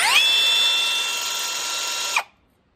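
A hammer drill whirs at high speed in one steady, close burst of about two seconds, then cuts off abruptly into silence.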